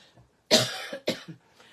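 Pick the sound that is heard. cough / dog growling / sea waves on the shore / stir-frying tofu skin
cough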